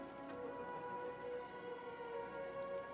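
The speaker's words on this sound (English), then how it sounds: "More rain in the desert." Rain falls steadily in a desert setting, an even, continuous patter on surfaces over a constant tonal hum, moderately faint and with no talk.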